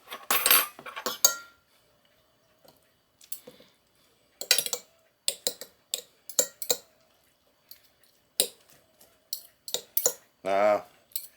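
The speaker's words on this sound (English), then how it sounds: "So while we're shredding my chicken," Two forks scrape and clink against a pan or bowl while cooked chicken is shredded for a honey garlic chicken dish, short irregular metallic bursts at close range with pauses between them.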